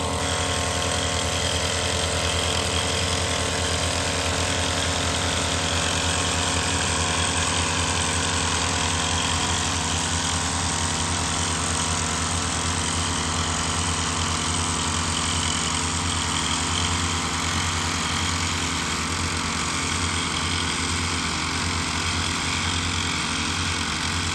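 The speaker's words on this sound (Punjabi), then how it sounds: "ਇੰਜਨ ਸਟਾਰਟ ਲੱਗੇ" A small engine driving a crop-spraying pump runs steadily in cold weather, a continuous loud, even drone with a rapid low throb that holds unchanged from start to finish with no talking.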